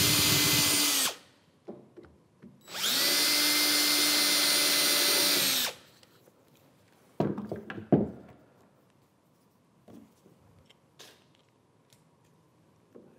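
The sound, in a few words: power drill drilling a pilot hole in workbench wood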